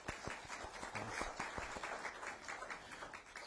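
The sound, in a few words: round of applause for guests at a news conference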